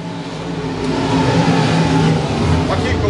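Stock cars and modifieds roar away at the green flag on a dirt speedway, a loud, building multi-car engine rumble filling the air while an announcer talks over it.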